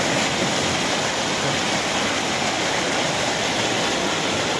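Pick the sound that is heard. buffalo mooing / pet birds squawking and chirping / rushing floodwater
rushing floodwater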